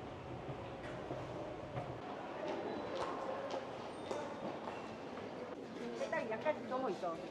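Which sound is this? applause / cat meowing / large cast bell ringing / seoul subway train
seoul subway train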